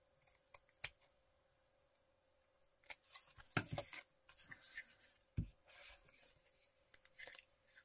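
Scissors snipping off excess paper bulk at the corner of a book page, a few scattered crisp cuts and rustles, close and fairly quiet, with pauses between snips.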